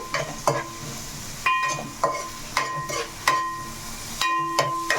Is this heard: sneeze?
no